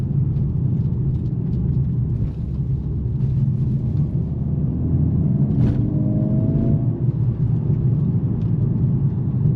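A 2025 Mercedes-AMG CLA 45 S Coupe, 416 hp, driving in Sport Plus mode, its engine a steady close rumble with a brief rise in revs partway through.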